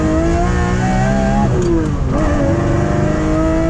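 A Lamborghini's engine roars loud and close as it accelerates on the Nurburgring track, revving through rising pitch with a brief dip around a gear change before climbing again.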